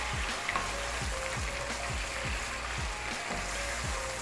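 Chopped tomatoes are stirred into a chicken karahi in a hot pan: a steady close sizzle with rhythmic scraping strokes about twice a second, with no talking.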